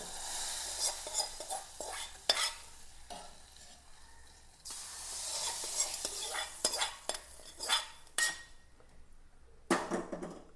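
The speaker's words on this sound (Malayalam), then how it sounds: "ഇത് നമുക്ക് ആ ചാറിലേക്ക് ഇട്ട് കൊടുക്കാം ചാറിലേക്ക് താളിപ്പിട്ട് കൊടുക്കാം" Hot tempering is poured into a lentil curry with tomato and drumstick leaves and stirred in. A soft sizzle runs under brisk scraping and clinking from a spoon against the pot, with several sharp metallic knocks.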